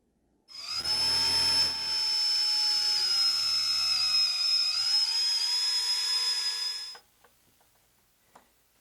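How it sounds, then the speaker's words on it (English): A power drill whirs steadily for several seconds drilling holes in kitchen cabinet doors, pitch dipping slightly partway, then stops, followed by a few faint clicks and taps. "Let's drill the holes."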